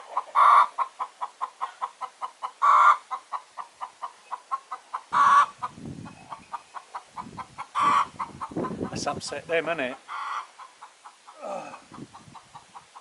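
Chickens on a UK smallholding cluck and squawk close by in agitated bursts, with a louder flurry midway, while a person speaks briefly over them.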